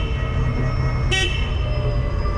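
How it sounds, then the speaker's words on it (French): A Hangcha forklift sounds a short, sharp horn toot over the steady hum of the truck's motor as it travels through a warehouse area marked with pedestrian crossings. "Je klaxonne parce qu'il y a des passages piétons."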